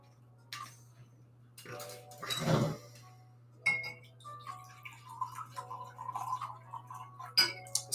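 Drinking glasses clink during a whiskey tasting, with a few sharp close clinks and a burst of rustling clatter amid a steady low hum and scattered small taps.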